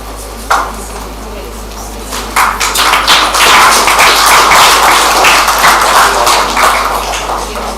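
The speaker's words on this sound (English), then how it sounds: "the huge round of applause" Stage applause at a school career fair greets a guest speaker, a dense patter of hands rising after a single sharp tap and holding steady and fairly loud throughout.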